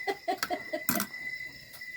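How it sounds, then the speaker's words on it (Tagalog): A chicken clucks in a quick series of short, soft calls, followed by a brief rustling burst, with a faint steady tone in the background. "Nandito na ang manok ni Saroy."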